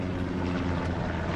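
Propeller recon plane droning steadily overhead in the World War II shooter Hell Let Loose, a continuous low engine hum throughout with no talk.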